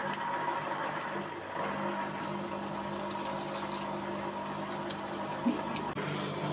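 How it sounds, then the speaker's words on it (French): A 15-year-old Bosch washing machine in its rinse phase, taking in water: a steady hum with a droning pump tone and a constant watery rush, close and continuous, with no talking. "Donc la machine elle rince."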